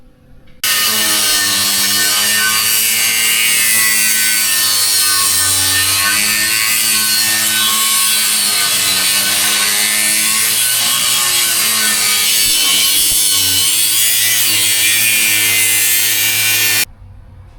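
A metal oil pan being cut down for an engine swap, a steady loud power-tool grind with a sustained whine that holds for over fifteen seconds, close and alone.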